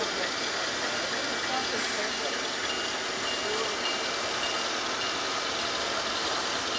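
HO scale model diesel locomotives, including a GE 44-tonner, run on a model railroad layout, giving a steady, continuous motor hum and hiss throughout with no talking.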